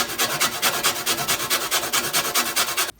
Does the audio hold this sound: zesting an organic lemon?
yes